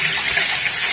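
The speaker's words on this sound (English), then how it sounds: "I fill it up with water" Tap water gushes steadily into a pot for about a second, a loud, close, continuous rush with no voices.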